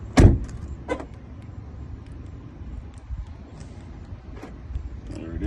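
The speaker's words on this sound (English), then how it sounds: "Let's close the door and see if it works." A Dodge car door slams shut once, close and sharp, then a couple of fainter clicks and thumps follow against a quiet background.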